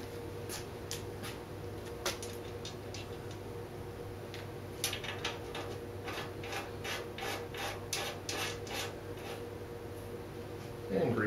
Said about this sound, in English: I'm going to chase out the bolts here with a tap.